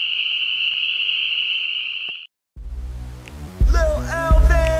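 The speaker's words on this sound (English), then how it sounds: "there's a lot of frogs singing in the background" Frogs call steadily at night in South Carolina woods, a dense chorus of trilling voices filling the first half, then a brief gap before other louder, varied tones take over.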